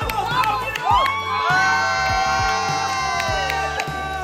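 A family cheering at a Christmas party game, with excited shouts, whoops and children's voices overlapping loudly, close and continuous.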